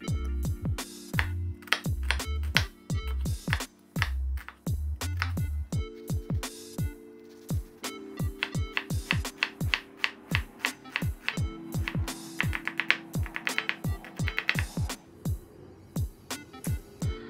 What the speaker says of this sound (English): And then we're just going to finely dice it.